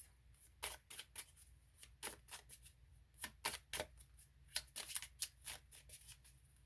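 A deck of tarot cards being shuffled in a rapid series of crisp riffling bursts, close up, with short pauses between, and no one talking.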